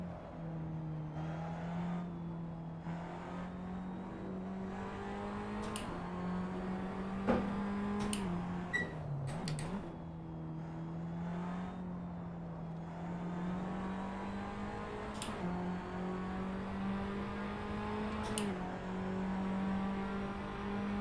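A race car engine in Assetto Corsa drones at a steady high pitch in sixth gear, holding a sustained tone with brief dips and sharp clicks from shifts, loud and continuous.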